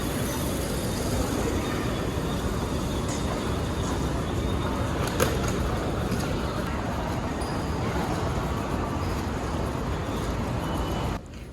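Continuous roar of a Bangkok metro train running along the rails, steady rumble with faint squeals and clicks, heard from inside the carriage.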